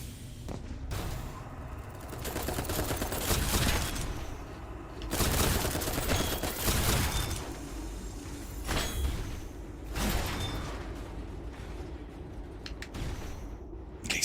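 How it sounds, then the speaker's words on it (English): Sniper gunfire in a souls-like action game, bursts of loud, crackling shots in several clusters separated by brief lulls, harsh and close-sounding with no voices. "Sniper McGee up there went ahead and shot me"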